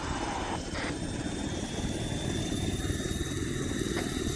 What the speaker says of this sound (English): Into the helicopter, line up in front of Jesus.